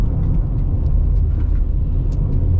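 A pickup truck's engine idles steadily up close on a farm where cattle are being fed, a constant low rumble holding level throughout with no talk.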